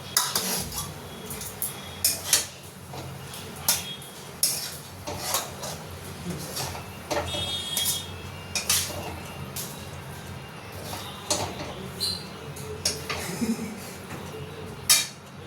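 Cutlery and dishes clink and scrape as pasta is dished out onto plates in a home kitchen, with scattered sharp clatters over soft background noise and occasional faint speech.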